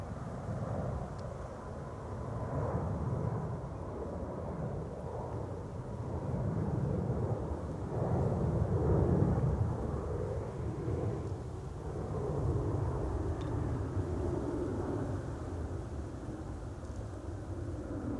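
An airliner takes off at Amsterdam Schiphol as a distant, rolling jet roar that swells and fades over many seconds, steady and broadband, with no talk.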